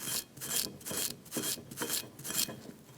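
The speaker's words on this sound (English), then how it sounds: "you can use a wire brush to get a lot of the surface rust off" A wire brush scrubs surface rust off rear brake parts from a 2004-2009 Mazda 3, making rhythmic, harsh back-and-forth rasping strokes, about two per second, close and alone.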